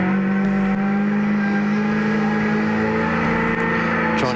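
A 2001 V8 Supercar, Lowndes' car, racing at Hidden Valley, its engine a loud, steady, close drone holding a constant high-rev note throughout, with no talk over it.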